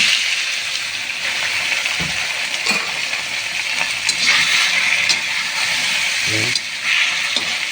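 Beef or other meat sizzling as it is sautéed in a hot pan at home, with a steady frying hiss, a few stirring clatters and a brief word spoken over it.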